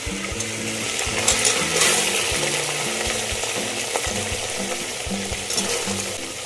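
Chopped onions fry in oil for a wedding-style vegetable pulao, giving a steady close sizzle under busy stirring and scraping, with no voices.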